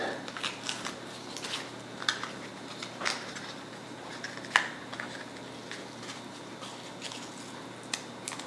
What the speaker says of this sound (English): this is always a fun part, to peel the tape off after you mask something off